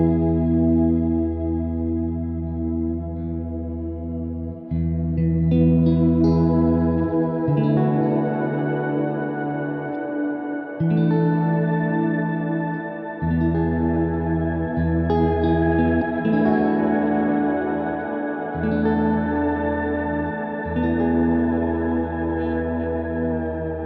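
Electric guitar chords played through a Walrus Audio Sloer reverb pedal on its Light shimmer setting, each strum blooming into a sustained, octave-shimmering wash that rings on between changes, with no talking.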